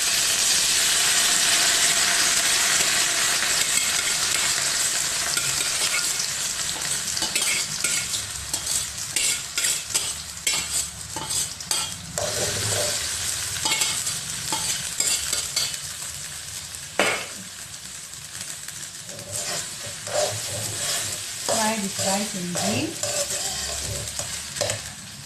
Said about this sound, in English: Now we're going to fry this rice.